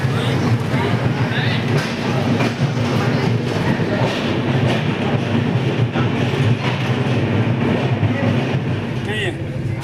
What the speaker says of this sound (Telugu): ట్రైన్ మాత్రం చాలా పెద్దగా ఉంది